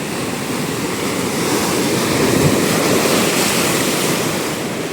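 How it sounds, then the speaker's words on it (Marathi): Big waves crash and surge in a loud, continuous roar of churning surf, swelling slightly in the middle, with wind buffeting the microphone and no voices. "अशा मोठ्या मोठ्या लाटा असतात"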